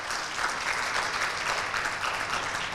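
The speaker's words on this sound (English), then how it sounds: "General VK Singh, can we have a very big round of applause, please?" Audience applause greeting a guest on a televised interview stage, a steady, dense wash of many hands clapping at an even level throughout, fairly close and uninterrupted.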